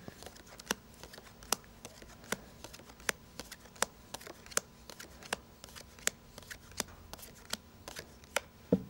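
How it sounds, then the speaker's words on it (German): Playing cards are dealt and flipped face up one after another during a card trick, a steady series of crisp, close snaps and slaps about twice a second, with no talking. "ich werde jetzt hier 10, 12 Karten aufdecken."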